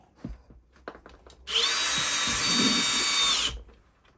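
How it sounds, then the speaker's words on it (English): A power drill drives a screw into a wall while mounting Elgato gear, one sustained whining burst of about two seconds after a few soft knocks and handling sounds. "Let's just screw it to the wall."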